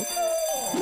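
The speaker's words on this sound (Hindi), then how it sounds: "क्या तुम्हें घंटी की आवाज सुनाई दे रही है?" A bell rings in an animated doll story: a short, close, steady ringing tone with bright overtones that lasts under a second.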